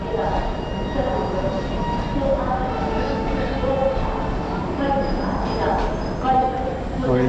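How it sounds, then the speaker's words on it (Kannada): Large railway station, Nizamuddin in Delhi, with a broad rumbling roar of trains and platform activity, faint tonal squeals and announcements mixed into the steady crowd noise. "ಇದು ನಿಜಾಮುದ್ದೀನ್ ರೈಲ್ವೆ ಸ್ಟೇಷನ್ ಅಂತ ಡೆಲ್ಲಿದು. ಸಖತ್ ದೊಡ್ಡದಾಗಿದೆ ನೋಡಿ"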